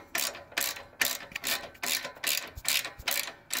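Hand ratchet loosening the top nut on a Coleman minibike, a run of quick metallic clicking bursts in steady back-and-forth strokes, close and clear with no talk.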